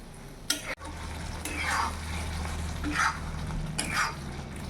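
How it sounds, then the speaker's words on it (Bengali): Posto paste in water bubbling in a pan on a full gas flame, with a low steady simmer broken by a few stirring scrapes and soft metallic clinks. "গ্যাসের ফ্লেমটা এখন ফুল রাখবো। এখন ভালো করে আমি ফুটতে দেবো।"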